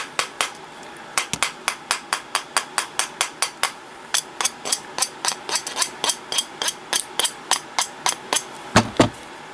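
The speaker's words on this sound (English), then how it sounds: "I had this on my leg and I was hammering it" A small hammer strikes a wire rose bead ring, making a long series of sharp, close metallic taps in a fairly steady rhythm with brief pauses and a quicker flurry near the end.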